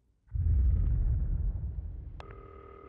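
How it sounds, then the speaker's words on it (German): A telephone rings in the Not For Broadcast video game, its tonal ring entering late over a loud rumbling storm sound that dominates the clip. "das Telefon klingelt mal wieder"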